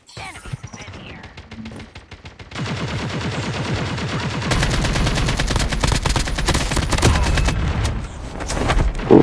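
Rapid gunfire in a Call of Duty Mobile battle royale match, with sniper rifle shots among it: dense, loud strings of close shots start a few seconds in and run steadily to the end.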